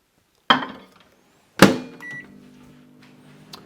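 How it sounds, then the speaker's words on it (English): Microwave oven used to reheat chocolate: two sharp knocks a second apart, likely the door being shut and the unit started, followed by a low humming drone with a brief tone, close by and without talk. "I just have to put again back in the microwave for a few seconds."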